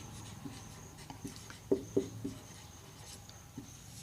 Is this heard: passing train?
no